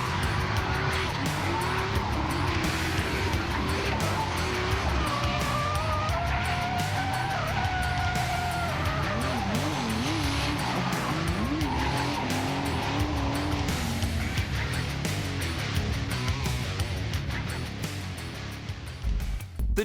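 Nissan Skyline R31 drift car sliding: loud, continuous tyre squeal with wavering pitch over a revving engine and skidding, sustained for the whole stretch, no talk.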